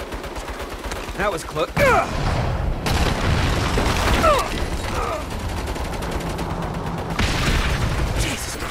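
Turret gunfire in the Saints Row video game, sustained bursts with heavy booms, loud and close, while voices shout and talk over the barrage.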